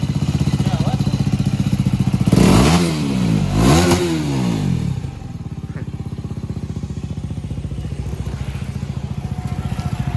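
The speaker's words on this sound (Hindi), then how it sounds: "एक बार साइलेंसर की आवाज बना" A motorcycle engine with its exhaust silencer idles steadily, then revs up twice in rising, throaty surges before settling back to a lumpy idle, loud and close.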